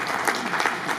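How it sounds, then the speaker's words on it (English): An audience claps during a housing reform inauguration ceremony, a brief, dense burst of steady applause from many hands, loud and close with no voices. "Please let's clap for them."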